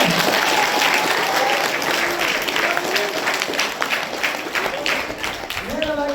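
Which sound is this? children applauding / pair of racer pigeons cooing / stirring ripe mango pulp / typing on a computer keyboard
children applauding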